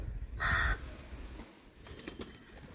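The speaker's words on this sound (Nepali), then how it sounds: "कागहरू उडिरहेको" Crows cawing outside a village home, a loud harsh burst of calls early on, then fainter scattered caws and rustling as the birds fly off.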